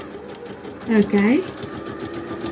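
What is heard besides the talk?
sewing machine stitching a buttonhole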